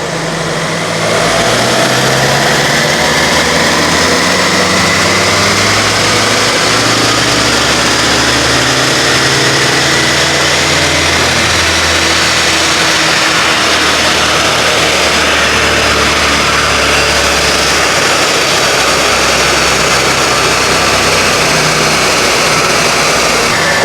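A Citroen Berlingo engine runs hard on a dynamometer, a loud, sustained roar with layered engine harmonics that slowly shift in pitch as the revs climb across the run.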